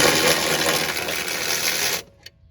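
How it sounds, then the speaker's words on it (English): Power tool loosening the top strut bolts on a 2010 Buick Enclave, Chevy Traverse, GMC Acadia or Saturn Vue, a loud continuous whirring buzz for about two seconds that stops abruptly, followed by a small metallic clink. "I'm loosening the bolts on the top, bringing the strut down."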